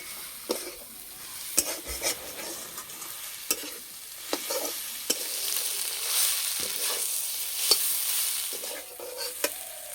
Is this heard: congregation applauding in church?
no